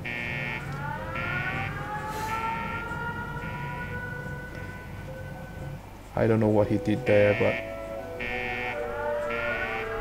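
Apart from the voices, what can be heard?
shelter alarm in the video game Fallout Shelter Online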